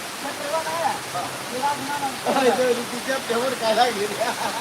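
Cloudburst-like, very heavy rain pours down in the village of Pirachi Kuroli as a dense, steady roar of falling water, with people talking loudly over it throughout.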